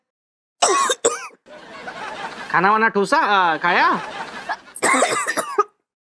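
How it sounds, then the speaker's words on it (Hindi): A woman coughs in sharp, harsh bursts close by, broken by strained vocal sounds, with brief speech between the coughs. "कुछ बोलेंगी भी कि सिर्फ खांसेंगी?"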